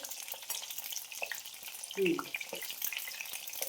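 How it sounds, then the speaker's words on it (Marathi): Eggplant pieces fry in oil in a small kadhai, giving a soft, steady sizzle with a brief clatter near the middle and no talk. "आता हे छान आपल्याला तळून घ्यायचे"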